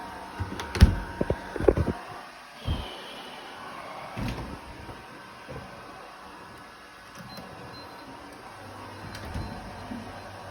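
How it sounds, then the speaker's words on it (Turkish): The door of a Bosch refrigerator with a bottom freezer, whose upper compartment is not cooling, is shut, giving a few quick thumps and clicks near the start, then quiet room hum. "kapıyı bir kapatalım önce."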